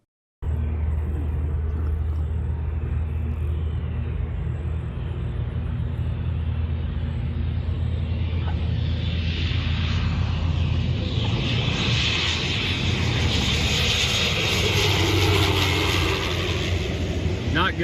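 A Turbine Lancer aircraft coming in too high and fast onto a runway, heard as a loud, steady engine rumble with a rising broadband roar building toward the end, with no voices.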